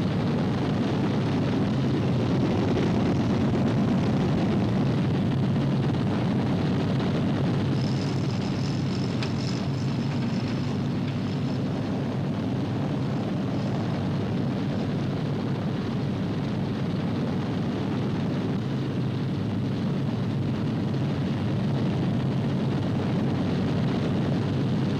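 Heavy bomber aircraft engines droning as a formation takes off in a war movie, a steady, loud, continuous roar throughout.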